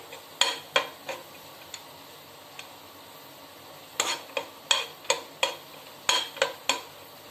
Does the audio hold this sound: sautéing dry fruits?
yes